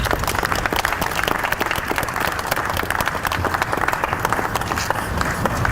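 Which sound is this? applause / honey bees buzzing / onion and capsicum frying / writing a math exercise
applause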